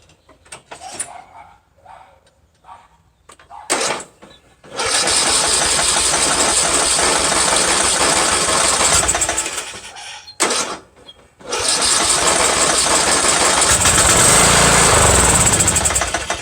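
A John Deere L100 lawn tractor engine with a starting fault, recently re-adjusted valves and a working fuel pump. It sputters briefly, catches and runs loud and steady, cuts out, then fires up again and keeps running.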